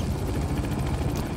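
A helicopter in Manhunt 2 thumps continuously with a loud, rapid, steady rotor beat and heavy low rumble, filling the scene with no pauses.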